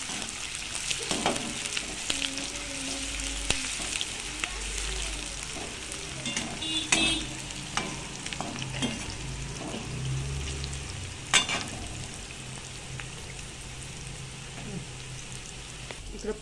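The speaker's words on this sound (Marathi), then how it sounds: "कांदा लवकर फ्राय होतो" Chopped onion with a pinch of salt frying in a pan for vegetable biryani, giving a steady, close sizzle and crackle that carries on throughout, with occasional clinks and stirring knocks.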